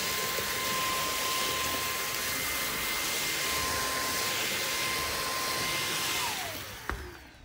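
Household vacuum cleaner running steadily in a home, a loud, close whining roar with a sustained tone that holds for several seconds before winding down at the end.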